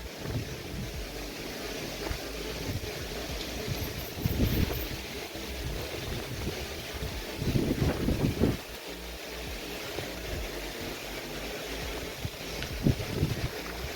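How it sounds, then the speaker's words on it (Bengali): Strong wind gusts across a rooftop, buffeting the microphone with a continuous low roar and rumble that swells in stronger gusts. "হেভি হাওয়া ছেড়েছে হেভি"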